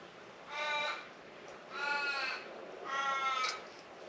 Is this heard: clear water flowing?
no